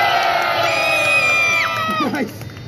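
Street performance crowd at the Edinburgh Fringe cheers loudly before a fire juggling act, a sustained roar of shouts and whoops with high-pitched children's voices that fades in the last half second.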